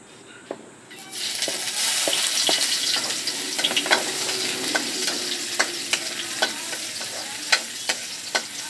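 Food frying in very hot cooking oil, starting with a quiet moment and then a steady loud sizzle with crackling pops and occasional clinks of a utensil stirring.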